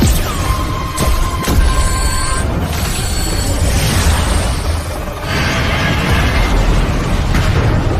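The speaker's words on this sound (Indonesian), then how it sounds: "Meriam laser yang ditembakkan, laser itu mampu meluluhlantahkan kawanan para monster." Booming sci-fi laser cannon blasts and energy zaps fire from spaceships in an animated series in a loud, dense sequence, with sharp bursts and rising whines over a heavy rumbling bed.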